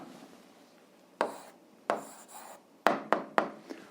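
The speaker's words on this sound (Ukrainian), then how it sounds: "що зараз записуємо відповідь, пишемо відповідь" Pen or chalk writing an answer to an algebra exercise by hand, heard as a few short scratchy strokes in separate bursts, quiet and close, with no talking.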